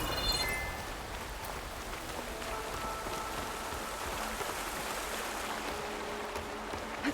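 Steady, heavy rain hisses and patters across surfaces in Horizon Forbidden West, a dense continuous downpour with no voices, after a brief tonal chime at the start.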